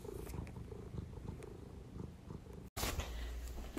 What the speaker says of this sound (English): I don't know if you can tell, but she's purring.